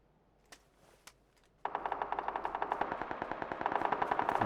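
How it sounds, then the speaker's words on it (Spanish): Gunfire in the video game PUBG, a couple of isolated single shots followed by a rapid sustained automatic burst of evenly spaced cracks, fairly close and loud with no talk. "Alguien está disparando, ¿no?"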